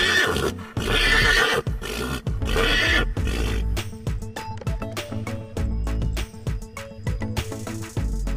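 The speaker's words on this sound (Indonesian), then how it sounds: "Ini kuda." A horse neighs and whinnies loudly in a children's animal cartoon, with repeated high, shaky calls filling the first few seconds, then giving way to busy clattering, tapping and musical sound effects.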